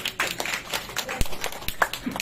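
Sparse, uneven clapping from a small audience at a health talk, a handful of separate hand claps spaced irregularly, fairly faint and with no voices over them.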